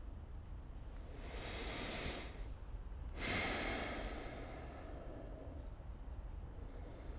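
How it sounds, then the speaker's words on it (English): Slow meditative breathing, close and soft, with two long airy breaths, one inhale and one exhale, each lasting about two seconds over faint background hiss. "You're breathing, and you're breathing in, or you're breathing out."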